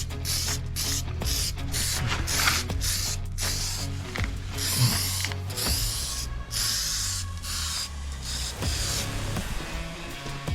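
An aerosol can of rust protective coating hisses onto metal rocker panels in repeated short and long bursts, a close, steady spray with brief pauses between pulls.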